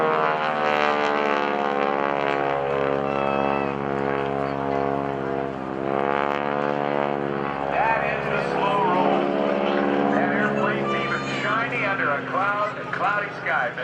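A propeller aerobatic airplane drones steadily as it performs a slow roll at the 2012 NAS Oceana airshow, its engine tone sweeping up and down, with a commentator talking throughout.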